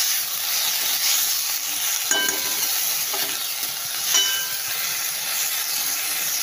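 Constant loud sizzling hiss of bathua greens frying in a hot wok, with occasional clanks and scrapes of a spatula stirring.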